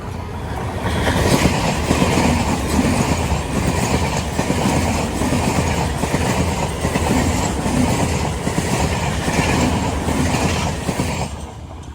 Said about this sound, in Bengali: দেখো সেই সামনে ট্রেন ঢুকছে